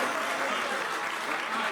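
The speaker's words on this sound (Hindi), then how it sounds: "बस जोरदार तालियां" Brief burst of audience clapping at a mushaira poetry gathering with Dr. Ganesh Gaikwad, a dense, even wash of applause lasting under two seconds with cheering voices mixed in.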